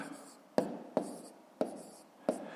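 Pen on paper as numbers are written for column multiplication: four short, quiet scratchy strokes at roughly even spacing, each a brief rasp that fades before the next, in a quiet room.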